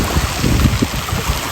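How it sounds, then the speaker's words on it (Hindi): Strong waves crash and splash against the waterfront at Ontario Place, a loud, close, churning roar with uneven surges and no voices. "क्या लहरें आ रही हैं, और लहरें भी जोर जोर से आ रही हैं।"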